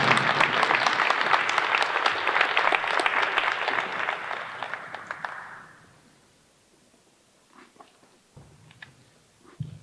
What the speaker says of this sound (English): Let's have one more big round of applause for all of our award recipients.